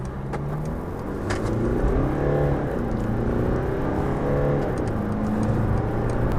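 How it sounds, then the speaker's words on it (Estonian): A Mercedes-Benz C-Class diesel engine pulls the car away, its drone rising and falling through gear changes as it accelerates, heard steadily from inside the cabin with no talk. "Nagu kuulda oli, sõidu alguses kostab mootori hääl kiirendades päris hästi sisse"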